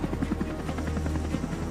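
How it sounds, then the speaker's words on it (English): A German navy helicopter flies near a NATO naval group, its rotor chop a steady rapid throbbing over a low engine drone, loud and continuous with no voices. "a German helicopter is transporting 2 technicians from the Truman to a destroyer"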